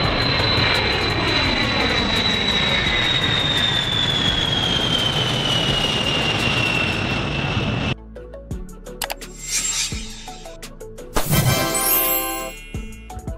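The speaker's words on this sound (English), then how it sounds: "a legendary long-range strategic bomber for the U.S. Air Force" Engines of a U.S. Air Force long-range strategic bomber give a steady, loud roar with a slowly falling whine for about eight seconds, then the sound cuts to quieter, scattered noises and short bursts.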